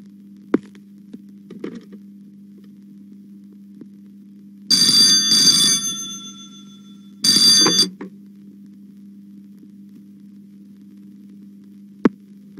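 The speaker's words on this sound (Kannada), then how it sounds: "ಫೋನು" An old-style telephone bell rings in two loud bursts a couple of seconds apart, each about a second long, over a steady mains hum in an otherwise quiet room, with a few faint clicks.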